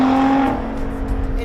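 A Lotus Evora GT430 with a titanium exhaust holds a loud, close metallic roar at around 4,500 RPM, a steady droning tone that eases slightly partway through but keeps going.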